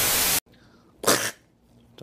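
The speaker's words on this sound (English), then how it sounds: "It was a fucking sneeze" A single loud, sharp sneeze bursts out close to the microphone, followed by a second abrupt burst a moment later, with quiet room noise between.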